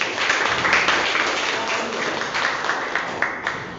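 A classroom of students claps together, a loud, dense burst of applause close by that keeps a steady rhythm and eases slightly toward the end.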